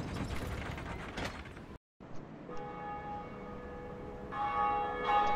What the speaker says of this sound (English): Let me hear that beautiful bell chime.